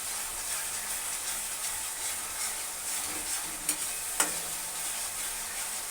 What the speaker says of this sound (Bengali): দেখুন কি সুন্দর মশলাটা ফ্রাই হয়ে এসছে।